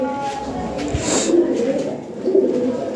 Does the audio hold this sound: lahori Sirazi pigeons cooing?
yes